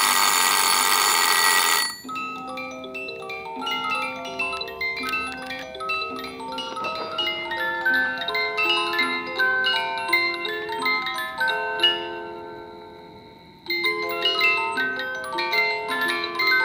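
A Jaeger-LeCoultre musical alarm clock rings its bell briefly, then its larger musical mechanism plays a tinkling comb melody of evenly spaced plucked notes that slows and pauses before resuming, close and clear with no talking.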